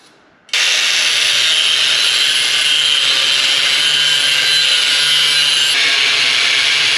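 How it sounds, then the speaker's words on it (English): A saw cuts through quarter-inch-wall 2x3 rectangular steel tube with a loud, steady, harsh roar. It starts abruptly after a brief quiet moment and runs unbroken to the end, with no talking. "Let me cut some of this."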